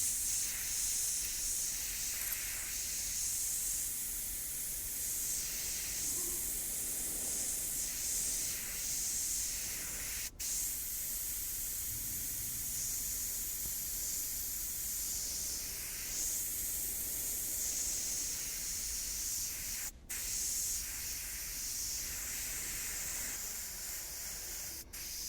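Steady airbrush hiss spraying paint over a skull design through stencils, continuous and close for the whole stretch with only brief breaks, no talk.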